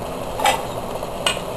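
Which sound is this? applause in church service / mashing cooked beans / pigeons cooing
mashing cooked beans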